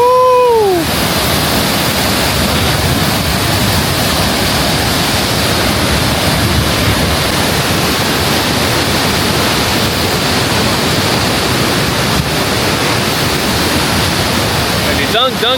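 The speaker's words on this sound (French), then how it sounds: "Dingue cette cascade." A powerful waterfall near Luang Prabang, Laos, roars in a loud, constant rush throughout, briefly joined at the start by a short vocal exclamation.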